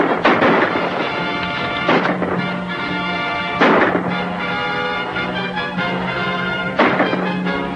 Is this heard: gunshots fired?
yes